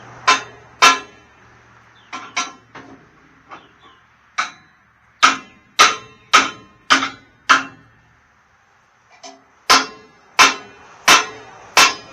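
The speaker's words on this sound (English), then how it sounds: "Now, let me try a hammer, see" Loud, close hammer blows while fitting dump trailer parts, in uneven bursts, some quick pairs and runs of strikes, with a brief quiet gap before a final steady series.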